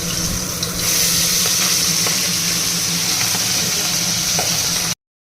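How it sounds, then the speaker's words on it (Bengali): Fish fries in a pan of hot oil with a loud, continuous sizzle that swells slightly after the first second. Faint utensil ticks come through now and then. There is no talking. "আর এখানে মাছ ভাজছি"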